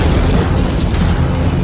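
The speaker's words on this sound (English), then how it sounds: "got hit by a sudden, powerful explosion of sand and water" A sudden, powerful burst of sand and water rushing into a tunnel under construction, heard as a loud, dense, roaring blast that stays heavy and turbulent for its whole short length.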